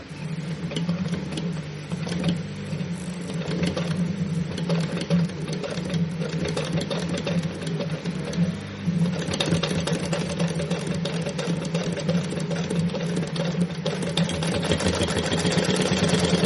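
A small Badal sewing machine fitted with a ruffler attachment, set to 8, stitches pleats into fabric, its motor running in a steady, continuous mechanical hum throughout with no pauses.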